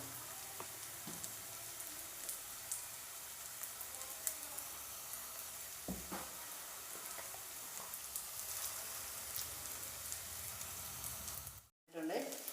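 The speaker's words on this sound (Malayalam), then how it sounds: "ഇനി ഇങ്ങനെ ഓരോന്നും തിരിച്ചും മറിച്ചും ഇട്ട് കൊടുത്ത് നമുക്ക് വേവിച്ചെടുക്കാം." Cutlets shallow fry in a pan, with a continuous soft sizzle and crackle, a few clinks and scrapes as they are turned, and one brief dropout near the end.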